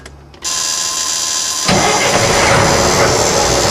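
A Class 1 tractor-trailer truck engine starts and runs during a pre-trip inspection, building air pressure from 50 to 90 psi; the close, steady rumble jumps louder partway through and holds.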